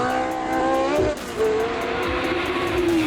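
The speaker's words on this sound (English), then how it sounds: "It's good for you guys to get the noise of Formula 1." A high-pitched Formula 1 racing car engine screams nearby, its whining tone dipping as it shifts, then climbing again, loud and continuous with no talk.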